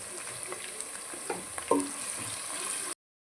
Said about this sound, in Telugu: ఇప్పుడు మనం ఇందులో కరివేపాకు వేసేస్తున్నాం